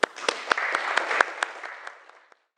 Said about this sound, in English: my one wish, is that Melissa Carr could be here to hear a round of applause for the amazing job that she did